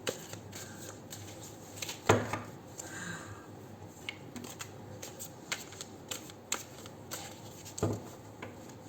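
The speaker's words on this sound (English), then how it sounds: "Now watch me shuffle this cumbersome deck." Cards riffle and slap together in quick bursts, with soft handling noises and a couple of louder snaps between shuffles.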